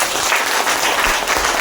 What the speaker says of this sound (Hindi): तालियां हो जाए